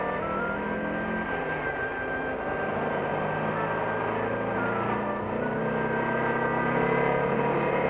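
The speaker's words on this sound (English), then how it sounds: "The car is driven under load through the gears and performance noted and checked" A car engine runs under load on an indoor dynamometer test machine, a continuous mid-level drone with tonal whine that shifts gradually in pitch as it works through the gears, no voices present.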